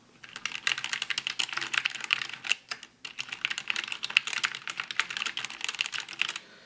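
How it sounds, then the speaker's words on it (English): Rapid, soft clacking of keys on a Geek GK61 60% mechanical keyboard with Gateron optical black switches, continuous typing close up with one brief pause midway. "I'll just do a little bit of just random key pressing and you can hear what it sounds like"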